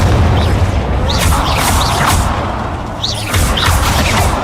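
Incendio fire spell cast in Hogwarts Legacy, a loud, sustained roaring whoosh of flame with repeated booming bursts and swishing magical flourishes that rise and fall over a few seconds.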